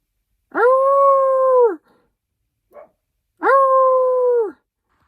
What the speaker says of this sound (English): It barks like a dog, but it sounds like it howls like a coyote.